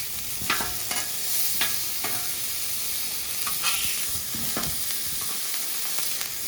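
Frozen shredded steak pieces, thawing into Steak-umm-style bits, sizzle and brown in a pan under a steady hiss, broken by several sharp scrapes and clinks of stirring spread through the clip.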